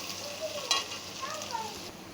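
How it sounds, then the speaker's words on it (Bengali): Onion and crushed garlic sizzle in hot oil while a spatula stirs them, a quiet continuous frying hiss broken by a couple of scraping stir sounds. "এটাও একটু ভেজে নেব তেল, পেঁয়াজ আর রসুন একসঙ্গে।"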